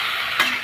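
Broccoli fries in mustard oil in a pan, giving a close, steady sizzling hiss with a brief stirring scrape in the middle and no talking.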